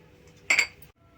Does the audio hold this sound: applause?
no